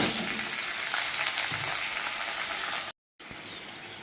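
Dense, steady sizzling of chopped vegetables frying in hot oil in a wok, loud and close, with a brief silent cut near the end before the crackle resumes.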